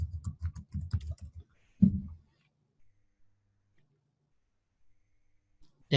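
Computer keyboard typing in an office setting: a short burst of close, light key clicks followed by a louder tap, then near silence.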